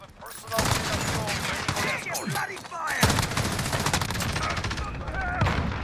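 An MG34 light machine gun fires in the game Call of Duty Modern Warfare, with sustained loud automatic bursts and rapid rattling shots, broken by a brief pause before firing resumes.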